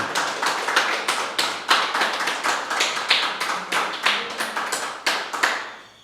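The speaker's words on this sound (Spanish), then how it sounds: "denle un aplauso al Señor, que Él se lo merece siempre" Worshippers in a church congregation applaud with loud, close, rhythmic clapping, many hands striking in a pulsing, roughly unified beat for about six seconds before tapering off, with no speech over it.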